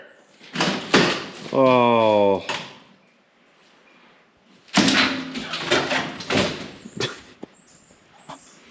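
Vehicle door banging and scraping with a rattling metallic vibration, then more knocks and clatter, amid exclaiming voices nearby.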